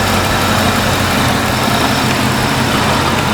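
Supercharged engine of a 2002 Ford F-150 Lightning pickup running steadily and loudly close by, a dense continuous roar with blower whine and no talk.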